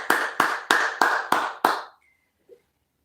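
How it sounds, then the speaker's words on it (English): Six sharp hand claps in a steady rhythm, close and loud, followed by near silence with a faint short sound at the end. "Clap it up for him. Clap it, clap it, clap it."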